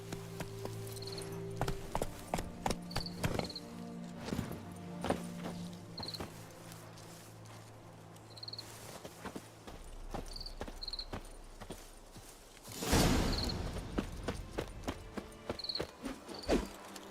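Roach, a horse in The Witcher 3, trotting with steady clip-clop hoofbeats over a faint insect and ambient game backdrop, with one louder burst of hooves near the end.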